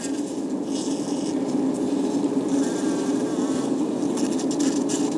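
A swarm of bees hangs beside log hives in summer, droning in a steady, dense buzz that holds at even loudness throughout with no voices.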